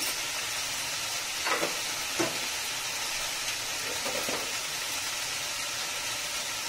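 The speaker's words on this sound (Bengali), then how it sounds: "এগুলো একটু লাল করে ভেজে নিব, মাখিয়ে নেব।" Eggs sizzling in a pan with salt, turmeric and dried chilli, a low continuous hiss broken by a few brief scrapes and stirring clatters, quiet and close.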